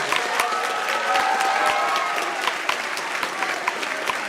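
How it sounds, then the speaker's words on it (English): A crowd at a school winter band concert claps enthusiastically, a dense patter of many hands with scattered louder claps, fading slightly toward the end. "So I'd like to give Mr. Wilson a round of applause"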